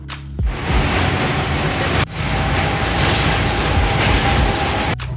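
A moving passenger train rattles and rumbles continuously, the carriage jolting along the tracks with steady clattering, loud and close throughout, with brief dips as it passes over joints.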